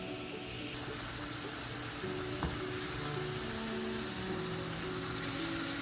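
Rao's pasta sauce sizzles and hisses steadily in a hot pan, a continuous close frying crackle with a faint background hum and no talk.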